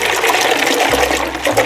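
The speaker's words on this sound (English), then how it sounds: "I take ice and put it in, pour it over it, make a half a gallon" Water is poured over ice to make a half-gallon turkey brine, a loud, close, continuous splashing and gushing pour with no talk.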